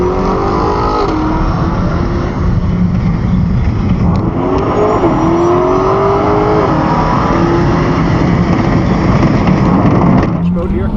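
A drag race car engine roars and revs hard on launch, rising in pitch as it accelerates down the strip, with a steady loud mechanical drone throughout.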